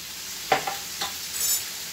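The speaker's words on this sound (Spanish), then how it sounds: "Seguimos revolviendo." A stew being stirred in a pan with garlic sizzling, heard as a few soft scraping strokes over a faint, steady frying hiss, close by and quiet, with no talking.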